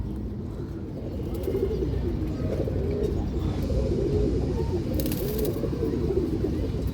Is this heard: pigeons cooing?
yes